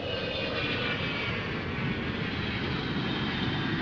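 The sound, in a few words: Avro Vulcan delta-wing bomber landing with parachute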